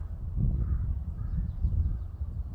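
A bird at Haeundae Arboretum in Busan gives a couple of faint, rough caw-like calls, partly buried beneath a heavy low rumble of wind and handling noise.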